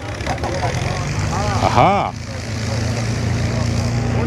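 Two propeller engines of an Avro Lancaster bomber run steadily at an outdoor evening event in Lincolnshire, a continuous low droning hum throughout, with a man's brief exclamation over it and a rising, falling whine near the middle.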